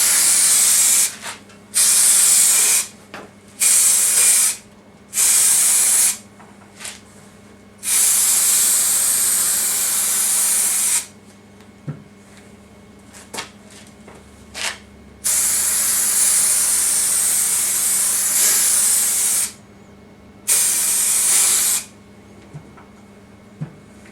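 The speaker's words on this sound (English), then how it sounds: "here we go with the heavy duty spray adhesive, which is what carpet fitters use" Heavy duty carpet-fitter's spray adhesive hisses from an aerosol can in repeated loud bursts, some brief and some lasting several seconds, separated by short quiet gaps, close to the microphone with no talking.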